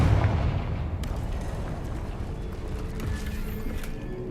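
A Confringo blasting spell detonates in the video game Hogwarts Legacy, a heavy low boom at the start followed by a rumbling, crackling tail that fades slowly.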